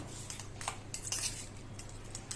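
Eggs and chopped coriander are beaten in a bowl for a cheesy bread omelette, with light clinks and taps of a utensil against the bowl at an uneven pace, close and fairly quiet.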